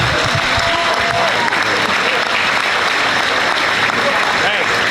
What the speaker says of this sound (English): Let's have another nice round of applause for the Senior Boys 2020.